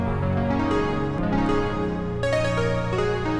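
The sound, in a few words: synth preset 80s Are Back in Ana 2 playing chords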